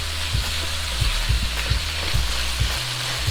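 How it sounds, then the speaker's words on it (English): Beef strips stir frying in a wok for a Thai stir fry, a steady close sizzle with rhythmic scraping stirs about every half second, loud and continuous with no talking. "Then you let her stir fry for another 5 minutes so they can actually change color."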